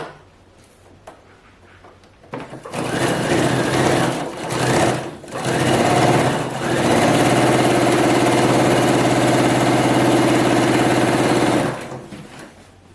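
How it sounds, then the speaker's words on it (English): A sewing machine stitches the side seams of a long sleeveless blazer, starting with a few short bursts, then running in one steady, loud, continuous whir for several seconds before stopping. "Next, I'm going to sew the sides."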